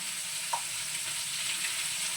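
Prawns fry in a pan as part of a buttery prawn polao. A soft, steady sizzle runs throughout with one small click, and no voices are heard.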